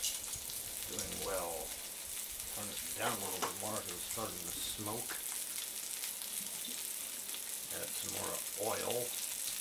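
Yak balls sizzle steadily in hot oil in a pan, a constant close crackle and hiss that runs under a person talking throughout.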